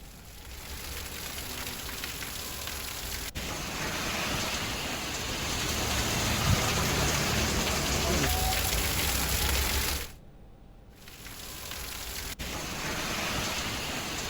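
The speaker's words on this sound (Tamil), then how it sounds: "பகுதிகளில் நேற்று கனமழை பெய்தது" Heavy rain falls in a steady, dense roar that fills the whole stretch, briefly dipping quieter before returning at full strength.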